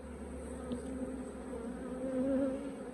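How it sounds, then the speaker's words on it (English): Steady, droning buzz of many honey bees close by, a dense hum that swells slightly toward the end. "Plenty of bees."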